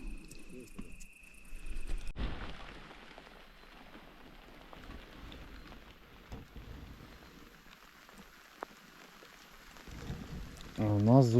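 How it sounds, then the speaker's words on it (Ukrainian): Rain falling on the Sula river during float fishing for bream, a soft continuous patter and hiss with handling noises and a brief voice near the start, growing louder at the end. "утра пішов дощик."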